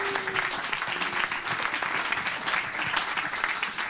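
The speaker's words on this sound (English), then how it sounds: "Give her a round of applause." Passengers at a morning show aboard a cruise voyage applaud an audience member named Helen, a full, steady round of clapping from a sizable crowd that holds constant throughout.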